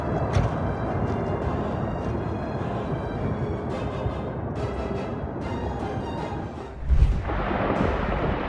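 A rock slide rumbles in a dense, continuous roar, with crashing thuds and a heavy boom near the end as debris tumbles.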